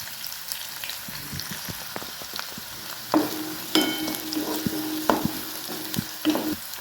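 Green chilies and curry leaves frying in hot oil for egg bhurji, a bright crackling sizzle with scattered pops and spatters, stirring scrapes joining midway, close and without voices.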